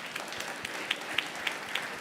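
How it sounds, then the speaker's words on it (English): Audience applause at a Stop Food Waste Day event, a steady wash of many hands clapping with a few sharper, louder claps standing out, continuous for two seconds with no talking. "Give them a round of applause."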